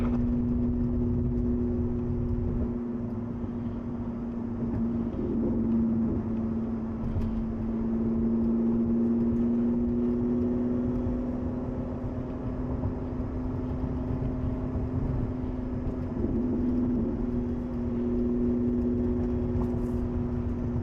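Lotus Emira V6 in sport mode gives a steady, droning engine hum heard from inside the cabin, holding an even pitch with slight swells, and no one speaks.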